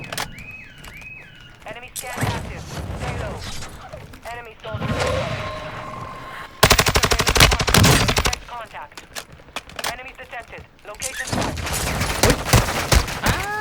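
Bursts of rapid automatic gunfire from an M4 and other weapons crackle through a Warzone 2 match, loud and repeated, mixed with game effects and a player talking.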